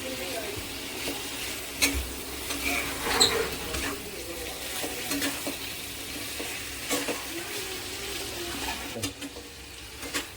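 Chicken sautéing dry in a hot kadhai with no water added, a steady sizzle broken by sharp scraping and clicking stirs that come in bursts throughout.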